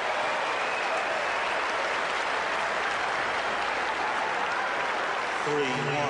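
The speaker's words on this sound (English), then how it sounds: "Crowd really appreciating the effort." Sustained crowd applause at the 2001 US Open first-round tennis match between Sampras and Boutter, a steady broad roar of clapping in a large stadium, with a commentator's voice coming in near the end.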